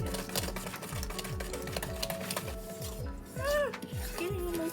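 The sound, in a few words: mixing peanut butter chocolate chip cookie dough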